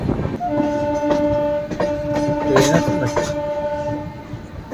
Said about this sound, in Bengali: একে একে জানা অজানা স্টেশন পেরিয়ে দুরন্ত গতিতে ছুটে চলেছে আমাদের গাড়ি।